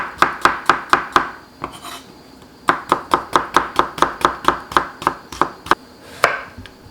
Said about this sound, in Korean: 무는 곱게 채쳐주세요